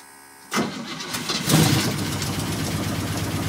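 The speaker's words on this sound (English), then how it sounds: "then you can hear the electronic fuel pump" A 1968 Toyota Land Cruiser FJ40 with an Edelbrock carburetor and electronic fuel pump cranks and fires from cold, catching after a quiet start and settling into a steady, rough close-up idle.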